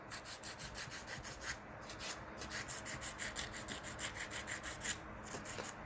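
An 80-grit nail file sands long almond-shaped acrylic nails with quick, rhythmic back-and-forth rasping strokes, close and fairly quiet, with no talking.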